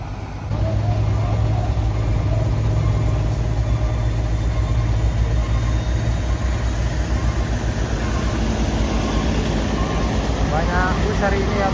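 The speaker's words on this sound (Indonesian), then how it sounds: "Dan ini derek maju jayanya datang lagi satu, dan ini yang akan membantu evakuasi truk box Isuzu Elf." A tow truck from Maju Jaya arrives to recover an Isuzu Elf box truck that has slid off the road, its engine a steady loud drone with low rumble under ongoing roadside traffic noise throughout.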